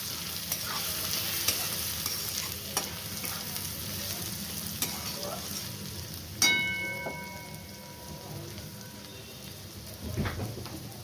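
Cumin powder and turmeric frying in a pan for a bottle gourd and potato curry make a steady sizzle with scraping stirs, one louder clatter midway, and no voices.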